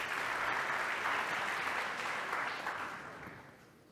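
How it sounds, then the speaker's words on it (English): An audience applauds a speaker at a talk on measuring UX for monitoring tools, a steady dense wash of clapping that carries on for several seconds and fades gently toward the end. "Please, an applause for Sotiris."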